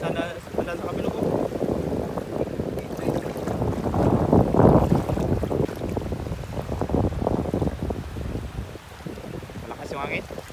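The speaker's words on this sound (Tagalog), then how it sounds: "Malakas yung hangin." Strong wind roars and buffets the microphone continuously, with voices faintly audible beneath the gusting rumble.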